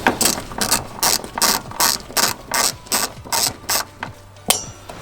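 Ratchet with an 8mm socket clicking on the fuel pump bolts of a 2015 Subaru WRX, about ten quick bursts of sharp pawl clicks in steady rhythm, close and loud with no talk.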